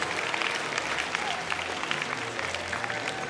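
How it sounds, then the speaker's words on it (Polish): A crowd at a charity football match between celebrities and local Złotów officials applauds steadily, with dense clapping over a low murmur of voices. "I brawa dla gwiazd medialnych"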